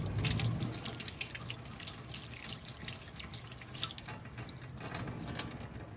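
Cold tap water runs steadily over a fig eater beetle larva being rinsed off, a continuous close splashing stream into a sink with faint dripping, no voices.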